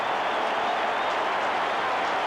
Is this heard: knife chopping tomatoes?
no